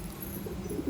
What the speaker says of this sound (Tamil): நம்மளுடைய புறாக்கள் வெளியே விட்டுருக்குறோம்